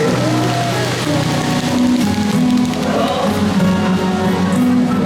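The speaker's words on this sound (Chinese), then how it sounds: "给自己掌声加尖叫声" Dense, steady applause from an audience at a live singing performance, a continuous loud wash of clapping that runs the whole time, with faint tonal music underneath.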